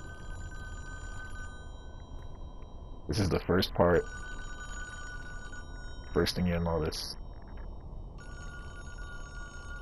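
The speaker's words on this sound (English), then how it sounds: "you're going to hear a phone ringing" A telephone rings twice in a cabin scene in the game Friday the 13th, two bursts of bell-like ringing separated by a pause, with a voice talking and a low ambient hum.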